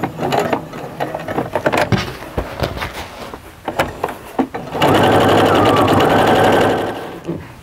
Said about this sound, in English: I'm going to stitch down.